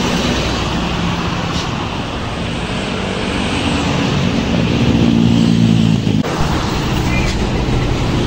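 An intercity Sugeng Rahayu bus bound for Bandung passes on a busy road, its engine roaring loud and near amid heavy traffic rumble, with a voice heard over it.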